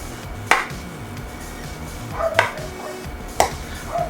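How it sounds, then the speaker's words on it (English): A knife pokes a couple of air holes into the top of a pastry, giving three short, sharp taps spaced a second or so apart against a quiet background. "cutting in a couple of air holes"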